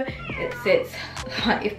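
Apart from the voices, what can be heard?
cat meowing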